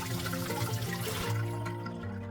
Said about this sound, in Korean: 쌀뜨물에 씻은 고등어는 흐르는 물에 깨끗이 씻어 물기를 빼줍니다.